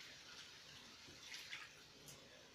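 Water is poured while cooking seafood pasta, a faint splashing trickle with a brief louder gush midway, quiet and close with no talking.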